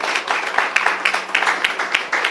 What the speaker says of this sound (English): Give her a round of applause for me now.